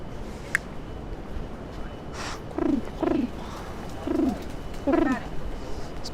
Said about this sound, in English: These pigeons are eating rice.